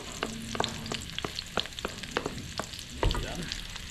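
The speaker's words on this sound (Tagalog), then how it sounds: "igigisa natin yung ating bawang at sibuyas" Onion and garlic sauté in a hot pan, a steady close sizzle broken by repeated scraping stirs of a spatula, fairly faint and with no voices.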